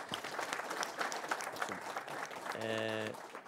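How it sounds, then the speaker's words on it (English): Steady applause from an audience at a cybersecurity industry panel, a dense patter of many hands clapping, with a brief tonal chime near the end. "So let's give them a round of applause"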